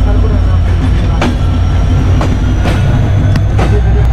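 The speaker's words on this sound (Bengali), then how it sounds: "এই ট্রেনটা আমাদের নোয়াপাড়া রেল স্টেশন থেকে ছেড়ে গেল" Train pulling out of Noapara railway station in the early morning, a loud continuous rumble with wheel clatter and rhythmic clicks from the rails, close by.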